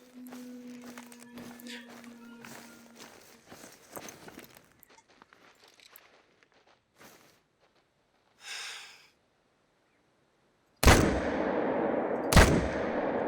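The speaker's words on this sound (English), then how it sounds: "we were able to get those two shots off just one after the other, no problem" Two loud rifle shots a moment apart in the hunting video game theHunter: Call of the Wild, each a sharp blast with a long rolling tail, after quiet rustling footsteps; no talk.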